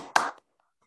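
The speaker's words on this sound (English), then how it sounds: "I'm the only one that can clap" A single person claps once at the end of a university statistics lecture, a short sharp burst in a quiet room, then silence.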